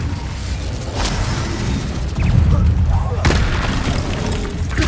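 Incendio fire spell cast in Hogwarts Legacy: a booming whoosh of flame with bursts and crackling over steady low rumble, loud and close, amid other spell effects.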